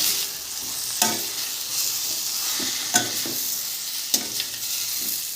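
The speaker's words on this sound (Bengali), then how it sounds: "ভালো করে মিশিয়ে নেব পোস্ত।" Ridge gourd curry with poppy seeds is stirred in a sizzling pan, a steady frying hiss broken by a few sharp scraping knocks of the spoon against the pan, close up and with no talking.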